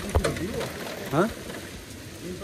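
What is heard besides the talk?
heavy rain in the mountains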